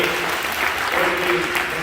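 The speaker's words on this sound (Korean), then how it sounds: "격려의 박수로" Steady applause from a church youth service congregation, continuous and fairly loud throughout with no breaks.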